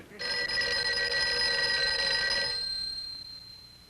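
A telephone bell rings alone in one sustained metallic burst. The ring is fairly clear and close, then cuts off and decays into quiet.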